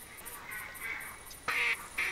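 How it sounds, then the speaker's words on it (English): Ducks quacking in the hunting game theHunter Classic, a few faint distant calls followed by two louder, closer nasal quacks near the end, with no talk. "I thought I could hear two flocks."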